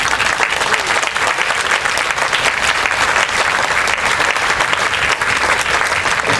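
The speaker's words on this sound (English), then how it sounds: "a big hand of applause as our first speaker" Crowd at an outdoor population white paper protest in Singapore applauding the first speaker, loud continuous clapping from many hands, steady and close throughout.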